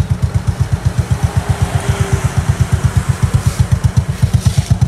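A Honda Alpha motorcycle upgraded to 110 cc idles up close, thumping in a steady, even rhythm with a low, pulsing beat and no one talking.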